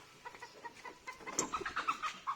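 Chicken clucking on a farm, a run of short close clucks and squawks growing busier and louder toward the end, alone with no talk.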